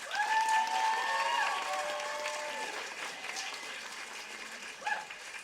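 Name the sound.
audience applause for actors at a play reading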